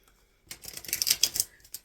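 Tarot cards being shuffled by hand in a quiet room, a short burst of rapid, crisp riffling clicks lasting about a second after a moment of silence.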